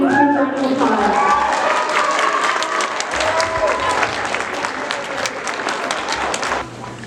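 An awards-ceremony audience gives a loud, sustained round of applause for the students, with a voice speaking briefly as the clapping begins, then the clapping carrying on alone.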